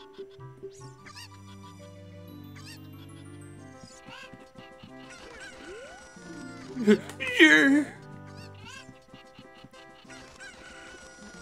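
Chickens clucking and a rooster crowing in the Ocarina of Time chicken minigame, tonal game-style calls over background music with a louder burst of squawks near the end, someone speaking briefly.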